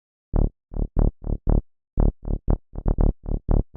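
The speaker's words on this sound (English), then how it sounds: "The next sound we have here is the bass" A synth bass line playing chord root notes as a rhythmic series of about fourteen short, punchy low plucks, grouped with small pauses, clean and alone.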